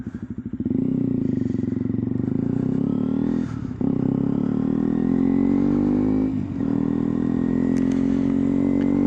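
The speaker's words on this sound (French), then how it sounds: "petite balade en moto, tout simplement, KTM 125" A KTM 125 motorcycle on a cold-weather ride drones loud and close, its engine pitch climbing steadily, dipping briefly at two gear shifts, then rising again.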